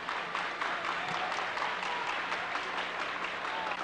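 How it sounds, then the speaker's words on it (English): Crowd clapping at a 1995 world taekwondo championship match in Manila, a steady, dense wash of applause from a large arena audience with rhythmic unison clapping, heard under a commentator's voice. "the crowd's here now clapping"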